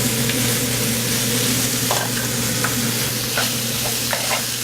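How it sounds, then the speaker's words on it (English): Sweet Italian and hot sausage with hamburger meat browns steadily in a pan for chili, a continuous close sizzle broken by a few scraping stirs and small spatters, with no voices. "we're going to brown a little bit of sweet and Italian sweet and hot sausage, and then we're going to put our hamburger in there too"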